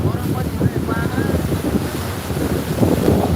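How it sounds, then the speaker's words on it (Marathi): The flooded Painganga river surges and churns near a large bridge, a broad rushing roar heavily buffeted by wind against the microphone. "बघा कशा उसळ्या मारत आहे"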